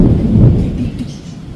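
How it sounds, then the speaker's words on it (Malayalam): A short, loud rumble of thunder rolls over Palakkad in rain, strongest at the start and fading quickly. "പാലക്കാട് മഴ പെയ്തു"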